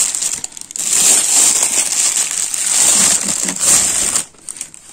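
Close, continuous crinkling of thin plastic film wrapped around a rose seedling, rustling and crackling steadily for several seconds before briefly pausing near the end.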